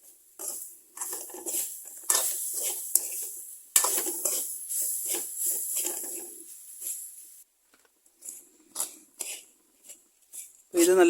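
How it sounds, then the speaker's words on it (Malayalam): Onions sauté in a pan until brown, then curry leaves go in, with spoon scrapes, clattering and light sizzling in uneven bursts, and a voice speaking intermittently. "ഇതൊരു ബ്രൗൺ കളറാവുന്നവരെ ഒന്ന് വഴറ്റിയെടുക്കാം. കുറച്ച് കറിവേപ്പില ഇട്ട് കൊടുക്കാം."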